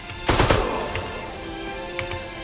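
A shotgun blast in The Evil Within 2 booms loudly and echoes away, followed a moment later by a fainter secondary report against steady background game ambience.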